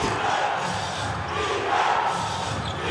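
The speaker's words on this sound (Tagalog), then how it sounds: "The crowd coming alive." Basketball arena crowd roaring and cheering during an MPBL game between Nueva Ecija and Pangasinan, a loud sustained swell of voices with low thumps underneath and no clear commentary.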